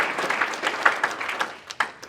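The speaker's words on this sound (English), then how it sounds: "So let's give him one more round of applause." Audience at an Ohio state representative's update breaks into brief applause, scattered claps thinning out over about two seconds at moderate volume.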